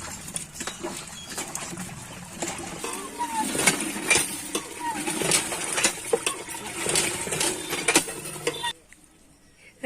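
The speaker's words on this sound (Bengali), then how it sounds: "শাল পাতা নিয়েছে আর তেল নিয়েছে সর্ষের তেল দিয়ে বাসন মাজতে বসেছে" Metal dishes and tiffin boxes being scrubbed by hand with sal leaves and mustard oil in a home kitchen, giving close, busy clinks and scraping clatter that runs steadily, with voices talking over it before it stops abruptly near the end.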